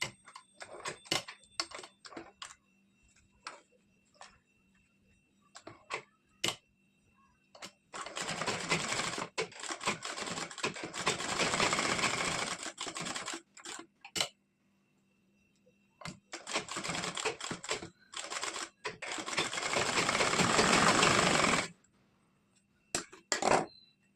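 A sewing machine stitches along the piping edge of a princess-cut blouse in two long bursts of rapid mechanical chatter. Scattered clicks and fabric handling fill the gaps before, between and after the bursts.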